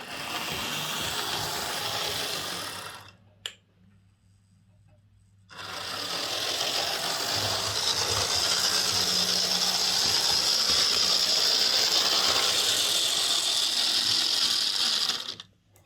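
Steady mechanical whirring and buzzing of a Lima Class J50 model train locomotive's motor running somewhat noisily, stopping briefly for a couple of seconds and then resuming at an even pitch.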